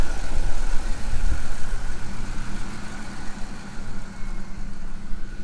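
A Triton V8 vehicle engine runs steadily after a jump start, a continuous low rumbling idle held close and fairly loud throughout with no talk.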